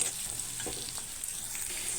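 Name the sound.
chopped onions frying in a little oil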